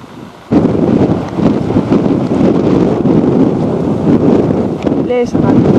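Strong outdoor wind buffeting the microphone on a grassy field, a loud low rumbling roar that starts abruptly and continues with gusty swells, with a brief voice near the end.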